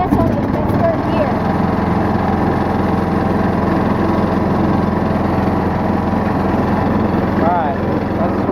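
Engine of an old riding lawnmower idling low while rolling slowly in third gear, a steady close rumble that runs unbroken throughout.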